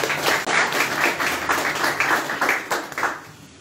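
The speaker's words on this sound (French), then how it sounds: "il mérite d'être même applaudi" Applause at a conference-debate on Morocco's new development model, a moderately loud crowd clapping with a slightly uneven, pulsing rhythm for a few seconds.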